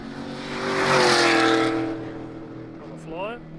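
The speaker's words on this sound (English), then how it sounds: "Here goes the LS S15." An LS V8-engined Nissan S15 race car on a flying time-attack lap roars past, rising loudly to a peak then fading with a falling pitch, followed by a brief higher whine as another sweep begins; a voice talks over it.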